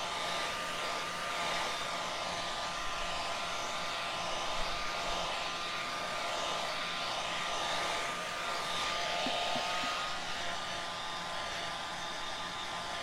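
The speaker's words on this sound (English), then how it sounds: "It doesn't take very long when it's with the blow dryer to dry it pretty quickly." A handheld blow dryer runs steadily at close range for the whole stretch, drying a glued craft project with a continuous, even whoosh of air and motor whine.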